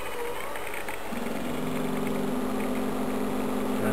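Electric motor driven from a resonant tank circuit, a steady low hum that deepens and thickens as load is applied partway through, continuous and fairly close.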